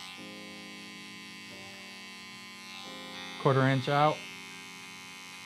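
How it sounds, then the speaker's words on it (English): Electric hair clipper buzzing steadily during a freestyle haircut, a low hum running throughout while someone speaks briefly over it near the end. "Again, start with closing clipper."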